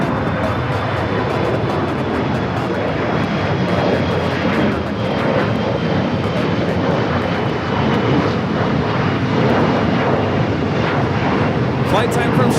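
An ITA Airways airliner in special livery on runway 25 right at Los Angeles International Airport, a loud continuous broadband roar of jet engines holding steady throughout, with voices talking over it.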